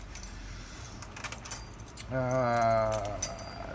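Brass blank keys jangle in short metallic clinks, starting sparse and then clustering into a brighter shake, close by, while a voice speaks over part of it.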